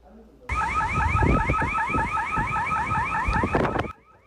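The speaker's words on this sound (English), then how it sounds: "a company just about a quarter of a mile away, has had their alarm system go off repeatedly at night." A business alarm system at a plumbing company in Thousand Palms going off at night, a loud, continuous rapidly warbling siren sweeping up and down that stays steady for several seconds before cutting off.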